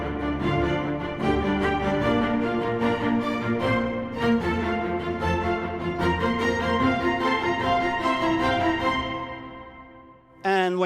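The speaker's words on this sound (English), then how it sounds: "I wrote a couple of lines for the viola section and violin section." Orchestral viola and violin sections play sustained lines that climb from low through mid to high register, a full, bowed string texture with no voices, ending with a brief, different sound at the close.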